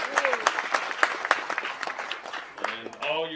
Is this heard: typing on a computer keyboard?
no